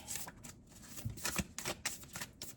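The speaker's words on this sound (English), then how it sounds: "I'll do a little bit of shuffling on camera as usual." An I-Ching card deck is shuffled by hand close by, a quiet run of quick papery riffles and soft slaps that repeats in short bursts.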